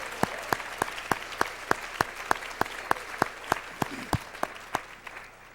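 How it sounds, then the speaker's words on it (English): An audience applauds the Bennett College Choir at a vineyard event with a slow, steady run of distinct, evenly spaced claps, fairly quiet and without talk. "Let's give them another round of applause."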